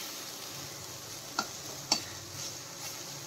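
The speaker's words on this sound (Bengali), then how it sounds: "তাই অনেকক্ষণ ধরে ভাজছি কুন্দুরিটা।" Ivy gourd (kundru) slices fry in a pan with a soft, steady sizzle, broken by two sharp clicks or pops of stirring.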